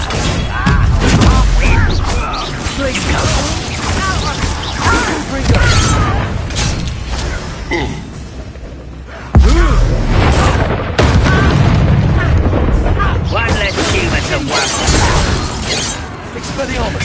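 Booming Confringo spell explosions in Hogwarts Legacy, repeated blasts and crashes during a duel, with voices shouting and talking over the combat throughout.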